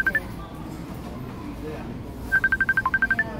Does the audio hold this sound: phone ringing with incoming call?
yes